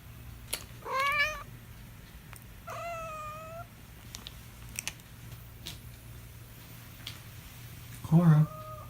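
Domestic cats meowing close by, with three distinct rising meows spread across the clip against a low steady hum and a few small clicks and taps in a quiet room.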